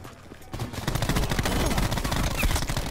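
Rapid bursts of DAEMON 3XB MKII gunfire in Black Ops, a dense, loud rattle of shots that kicks in after a brief quieter moment and keeps going without pause.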